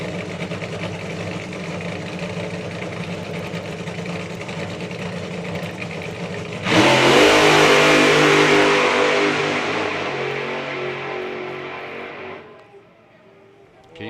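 The Chi-Town Hustler nostalgia drag car, driven by Paul Harris, idles with a loud, rough burble, then launches into a roaring full-throttle run that holds for several seconds before fading abruptly as it passes into the distance.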